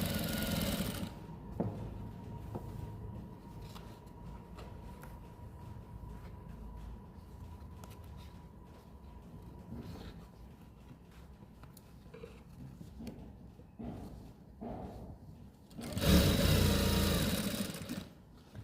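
A sewing machine runs in stretches as it stitches the elastic waistband of a palazzo, whirring on and off with pauses, then ending in a louder, faster run near the end.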